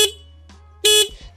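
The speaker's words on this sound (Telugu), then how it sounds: "సో మీరు హార్న్ సౌండ్ చూసుకుంటే" A Triumph Trident 660 motorcycle horn gives two short, loud electric honks, a faint brief toot first and then a stronger blast near the end, with quiet idle hum between.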